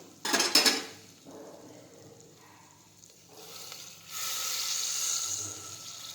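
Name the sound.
adding water to the pointed gourd curry in the cooker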